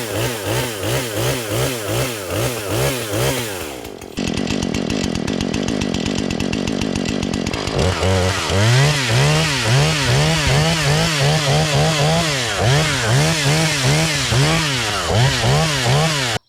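A Husqvarna 440 40cc chainsaw cutting into a dead pine tree, loud and close, its engine revving in rhythmic surges, dropping briefly to a steadier idle-like drone midway, then resuming the pulsing high-rev cutting.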